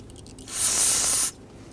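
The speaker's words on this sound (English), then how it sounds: "We're going to do this by simply using some spray solvent." A single sustained burst of spray solvent hisses loudly for just under a second onto a Toyota Tundra cylinder head, cleaning off old gasket residue, then cuts off abruptly.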